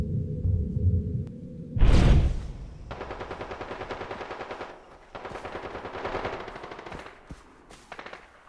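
A submachine gun fires in Far Cry 3 multiplayer: a heavy blast, then long rapid bursts of automatic fire with brief pauses and a few scattered shots at the end. Nobody speaks.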